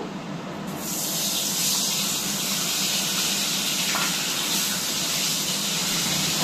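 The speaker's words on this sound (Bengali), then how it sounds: "কড়াতে তেল বসিয়ে দিয়েছি, তেলটা গরম হয়ে গেছে। তা মাছটা আমি আগে ভেজে নেব।" Hilsa fish head, coated in salt and turmeric, frying in hot oil in a kadai: a loud, steady sizzle with a dense crackling hiss that starts abruptly and holds evenly, close up with no talking.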